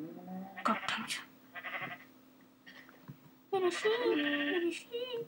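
Sheep in the Minecraft video game bleat in several short, close calls, some overlapping, with a person talking between and over them.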